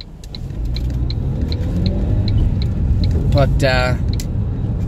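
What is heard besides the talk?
manual car changing gears while driving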